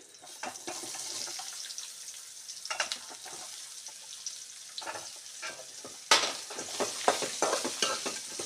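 Two onions frying with spices in a pan for paneer masala, a soft continuous sizzle broken by repeated stirring scrapes and clinks of a spatula, close and with no talking.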